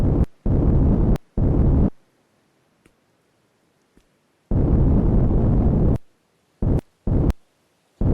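Gunshots ring out in the video game Stars End as a bear is fired on: several loud, booming blasts, some ringing on for a second and others short, sharp cracks, spaced irregularly with quiet gaps between.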